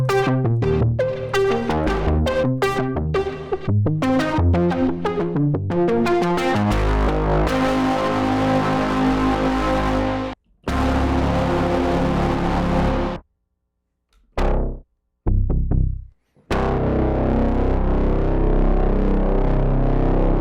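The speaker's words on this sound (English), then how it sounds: "Kind of funky with the reverb getting triggered in and out" A funky synthesizer patch with reverb switching in and out, running thick and distorted with dense harmonics, then cutting to sudden silences and returning in bursts.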